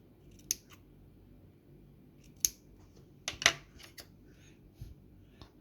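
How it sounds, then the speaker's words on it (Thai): Small scissors snip the cotton wick of an e-cigarette coil in a few sharp, close clicks, single cuts about two seconds apart, then a quick cluster near the end, over a quiet background. "พอผมตัดลุกเนี่ยมันทำให้สำลีบางอย่างบางส่วนขาดออกมานะครับ"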